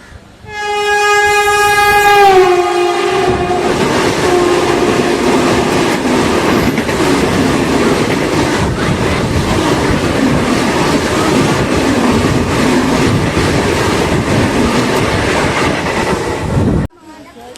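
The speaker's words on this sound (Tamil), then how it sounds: "நம்மளுடைய கோவை எக்ஸ்பிரஸ் பண்ணால் தொட்டம்பட்டி வந்துருச்சுங்க" Kovai Express passenger train arriving at a station, a loud two-tone horn blast opening over the rumble, then a sustained roar of wheels and rolling carriages passing close for over ten seconds before cutting off.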